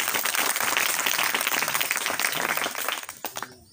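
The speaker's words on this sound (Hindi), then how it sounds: "तालियां तालियां हो जाए" Loud burst of applause from students at a coaching institute's Children's Day event, dense clapping that fades out toward the end.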